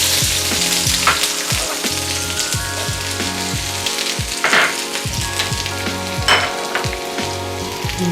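Chopped onion sizzles in hot oil in a wok for a Taiwanese noodle soup, a steady close crackle with occasional sharper spits and stirring scrapes over a constant low tonal hum.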